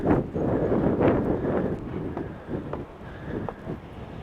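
Strong wind buffets the microphone outdoors in Orange, France, near the ancient theater, a continuous rough rumbling roar that swells and eases, with a faint voice far off.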